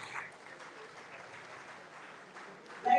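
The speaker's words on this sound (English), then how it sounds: "Please, a round of applause for my panelists." Steady applause from a symposium crowd fills the space, a dense wash of clapping that swells louder near the end.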